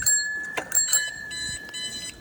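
A bicycle bell rings several times in quick bright dings, close and fairly loud, with a sustained metallic ring between strikes.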